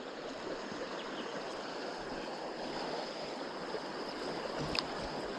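Fast-flowing water of the Kennett River rushing steadily over a broad span, constant and close, with no talk.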